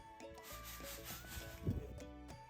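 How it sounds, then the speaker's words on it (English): A backyard lawn is scraped to loosen topsoil for reseeding, giving a steady close rasping scrape with a low hum beneath and a slightly stronger stroke partway through. "now it was time to scrape the lawn in order to loosen the topsoil and plant fresh grass seeds"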